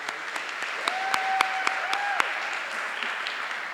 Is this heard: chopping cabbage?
no